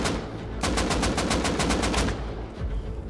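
Automatic rifle fire from an AK in the survival video game Rust: a sustained burst of rapid, evenly spaced shots lasting about a second and a half, loud and close, with no talk over it.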